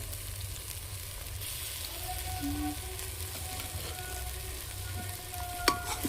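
Dal and spinach sizzle in a hot home-kitchen pan, a continuous close crackling fry with stirring scrapes and a sharp clink near the end.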